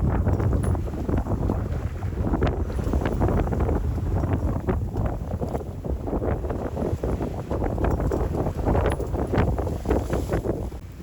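Strong wind at sea during an ocean crossing on a small sailing boat: steady, loud buffeting roar against the microphone with rushing gusts and water noise throughout, no talking.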